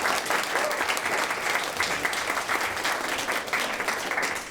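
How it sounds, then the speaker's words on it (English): Sustained applause from a crowd after a journalism panel discussion, a dense steady patter of clapping holding at an even level throughout. "Can we give them a round of applause,"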